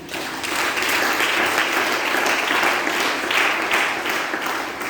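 A church congregation applauds to acclaim the Lord, producing dense, sustained loud applause with no gaps or talk.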